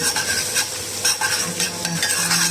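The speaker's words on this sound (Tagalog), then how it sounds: "Ito ginisa ko na yung bawang. Toasted ko na yung bawang ko." Garlic toasting in a pan for butter garlic shrimp, a loud close sizzle with rhythmic stirring scrapes of a utensil against the pan, and no voices.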